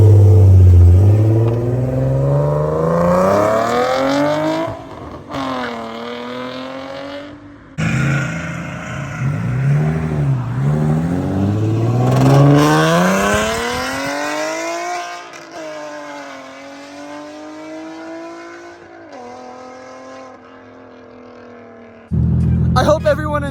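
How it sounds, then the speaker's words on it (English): A loud Infiniti G37 with a Tomei Expreme Ti titanium exhaust and test pipes revs hard, pitch sweeping up and down repeatedly, with brief cutoffs between bursts and a final roar at the end. "I love loud cars."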